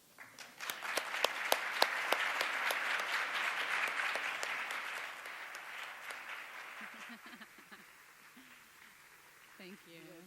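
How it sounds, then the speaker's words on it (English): Audience applause at a talk on educating girls in Africa, a dense, steady clapping that swells over the first few seconds, then gradually thins and fades, with faint voices emerging near the end. "Let us proudly give our hands to clap on stage"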